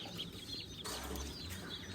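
Young ducks peep outdoors on a hot day, faint chirping calls with a brief rustle or flutter midway, soft and somewhat distant.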